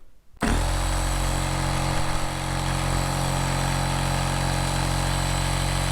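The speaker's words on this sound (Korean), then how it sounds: "고압 모터가 들어가 있습니다. 그렇기 때문에 좀 소리가 커요." A small electric air pump's high-pressure motor starts abruptly and runs loudly and steadily, a constant droning whir with a high-pitched mechanical whine.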